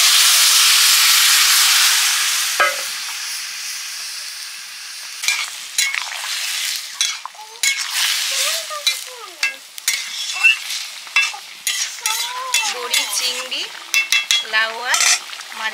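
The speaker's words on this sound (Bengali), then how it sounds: "এবারে সবজিটা ঢেলে দিচ্ছি।" Vegetables tipped into a hot pan for a spicy Bengali curry, a loud steaming hiss at first that settles into steady frying, then repeated close metal scrapes and clinks of stirring that grow busier toward the end.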